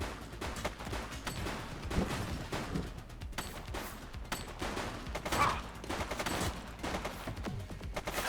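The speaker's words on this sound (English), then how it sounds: "Shots fired!" Video-game gunfire during a police shootout in The Precinct: a dense, continuous barrage of shots and bursts, loud and close, with repeated louder cracks throughout and no talk over it.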